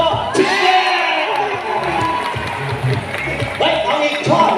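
An audience at a walrus show at Safari World cheers and shouts continuously, with children's voices and whoops in a lively crowd roar. People talk nearby over it.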